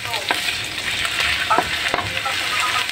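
Garlic, onion and chili frying in a pan for sardines, a loud close sizzle with repeated scraping and stirring strokes, no voice.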